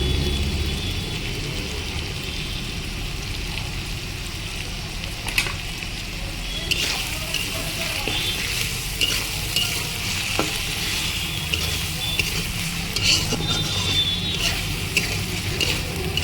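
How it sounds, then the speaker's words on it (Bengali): Tomatoes fry in a pan over a low flame for a chicken bhuna, giving a steady, continuous sizzle with occasional stirring scrapes, close and fairly loud throughout. "হালকা ফ্লেমে এক মিনিটের মতো টমেটোটাকে ভেজে নিই"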